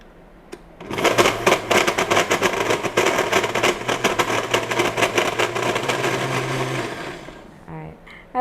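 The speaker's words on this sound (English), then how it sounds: "Give it a quick blend." A blender roars at full speed for about six seconds blending dates and almond milk, a dense whirring grind that starts abruptly and then cuts off.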